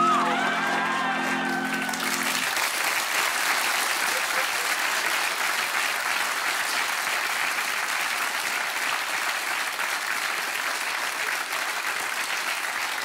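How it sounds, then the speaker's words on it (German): A studio audience at a German satirical TV comedy show breaks into steady, sustained applause with scattered cheers, a brief voice heard at the very start before the clapping takes over evenly. "Applaus bitte."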